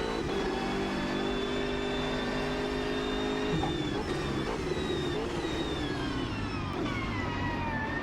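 A BMW M6 GT3 race car in the racing game Automobilista 2 revs through the gears on a timed lap, a steady loud engine drone whose pitch climbs, drops at a shift, then climbs again.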